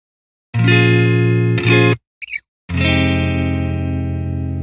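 Clean electric guitar notes from a Telecaster's single-coil pickup ring out, a sustained chord, a brief pause with a few muted plucks, then another chord ringing to the end.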